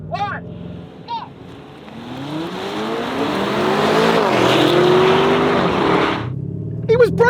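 Range Rover Sport SV and Lamborghini Urus Performante launching side by side in a drag race, engines revving then roaring in a rising surge as they pull away, with voices shouting before and after.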